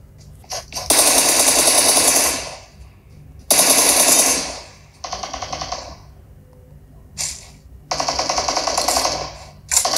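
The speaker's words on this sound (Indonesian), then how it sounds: "Langsung disambut dengan M4 yang dimana emang senjata favorit gue." M4 assault rifle fire in the PUBG Mobile video game, played on an iPhone 13 Pro Max, rattling out in loud sustained automatic bursts separated by short pauses.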